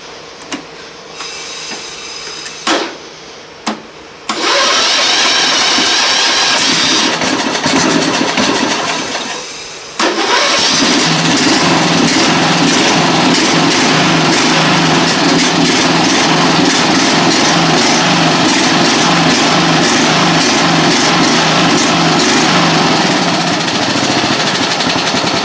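A riding lawn mower built as a Hazzard County sheriff replica runs loud and close through a steady engine drone, stepping up in revs twice as a newly fitted throttle pedal is pressed, then holding a high steady roar.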